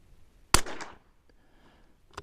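A single sharp shot from a CZ 455/457 bolt-action rifle at a range, loud and close with a brief decaying tail, followed by quiet and a faint small click near the end.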